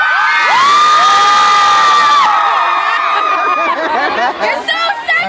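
A large festival crowd at an outdoor concert cheers, whoops and screams loudly and continuously, with high shouts and whistles rising above the roar and a voice over a microphone.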